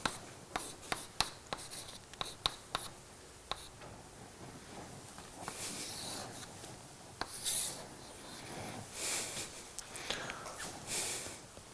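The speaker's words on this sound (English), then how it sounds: "Let me write it like this." Marker or pen strokes on a board during a lecture come as scattered taps and short scratchy bursts, then longer rubbing strokes in a quiet room.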